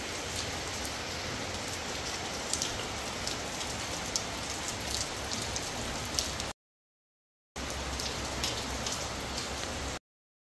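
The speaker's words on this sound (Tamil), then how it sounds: "இப்போ மழையாக இருக்குது" Steady rain falls on a surface in a Jaffna setting, a dense, even hiss with scattered drop patter running continuously, broken by a short gap before resuming just as loud.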